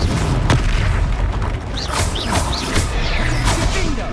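Repeated blasting-spell explosions from the Hogwarts Legacy video game, a string of dense booming bursts over a constant rumble of game combat noise, with no clear speech.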